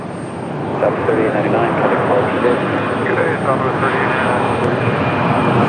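Southwest Boeing 737-700 jet rolling down the runway on takeoff at Raleigh-Durham airport, a loud broad roar of engines swelling and holding steady.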